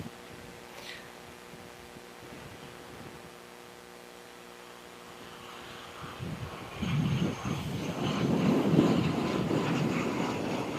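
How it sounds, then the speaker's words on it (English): A jet aircraft landing at Christchurch Airport, a faint distant hum that swells into a louder broadband engine roar over the final seconds. "there's an aircraft landing"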